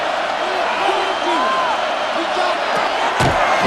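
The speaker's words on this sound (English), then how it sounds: "The crowd cranking it up another notch before 3rd and long" Stadium crowd roar in a Madden NFL 26 football game between the Pittsburgh Steelers and Cincinnati Bengals, a steady loud wash of cheering building before a third-and-long play, with whoops and shouts rising above it.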